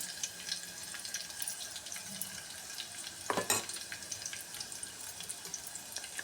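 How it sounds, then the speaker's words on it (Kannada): Green chillies fry in oil for a tapioca pearl (sabudana) tempering, giving a steady broadband sizzle with a sharper crackle burst midway, close and alone without talk. "ಇವು ಎಣ್ಣೆ ಒಳಗೆ ಫ್ರೈ ಆಗಲಿ"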